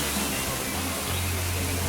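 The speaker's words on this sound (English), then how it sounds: "I hear the rain, I hear the thunder." Steady broadband hiss of an indoor rain shower effect, like heavy falling rain, with a low thunder rumble underneath that deepens partway through.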